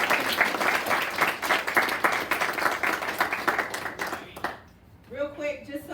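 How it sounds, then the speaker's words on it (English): Students at a summer recital receive a round of audience applause, dense clapping that fills most of the moment before fading out, followed by a short spoken voice. "Let's give all of our students another round of applause."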